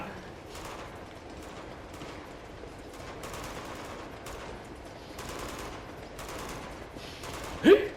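Gunfire in the Uncharted 2 video game while aiming and shooting: a series of sharp, evenly spaced bursts over a steady background, with one louder hit near the end.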